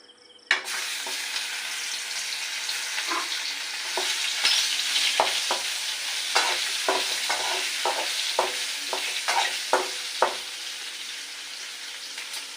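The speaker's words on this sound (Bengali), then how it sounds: "এই যে হলো মাখিয়ে এবার তেলে দিয়ে দিচ্ছি" Marinated tangra fish sizzling and spitting in hot mustard oil, a steady loud frying hiss broken by repeated sharp crackles and pops, with a sudden burst as the fish goes into the oil near the start.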